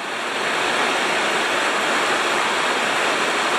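River water rushes steadily past outdoors, a constant loud, broadband roar with no breaks and no voices.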